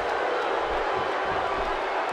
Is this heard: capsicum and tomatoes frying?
no